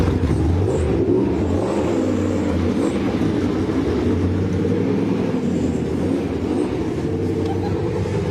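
Classic stock car engine revving at a speedway pit walk during a 50th year celebration, a loud steady low rumble that rises and falls throughout, with faint voices mixed underneath.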